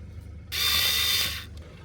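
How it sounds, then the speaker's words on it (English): A T25 Torx screw being undone on a car's start-stop button, a short ratcheting tool burst of about one second with fast clicking mechanical teeth, close and fairly loud. "The first step is undo the screw, which is a T25."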